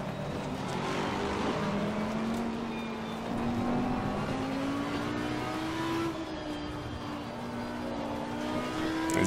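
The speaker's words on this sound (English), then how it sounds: "you heard the curbing there, you saw the car go over it" A race car in the video game Assetto Corsa Competizione runs over track curbs with a steady engine drone that rises and falls, plus rumbling tire noise over the kerbing, continuous and close with no talking.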